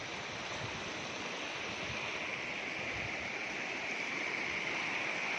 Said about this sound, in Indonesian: Relaksasi, suara desiran air